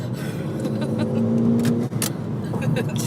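A 2007 VW GTI hums along on a test drive, heard from inside as a steady engine drone with road noise and a brief dip near the middle, while people speak over it.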